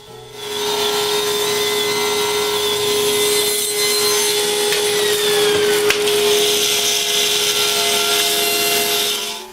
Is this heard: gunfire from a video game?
no